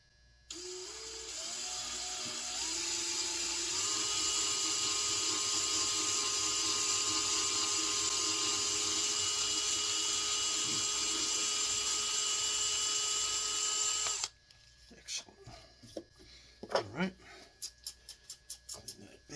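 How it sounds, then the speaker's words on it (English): A steady high-pitched power drill whines continuously for about fourteen seconds, drilling a hole in a Lyman Deerstalker rifle to mount a Vernier sight, then stops, followed by scattered clicks, taps and handling noises. "Let's drill the second hole."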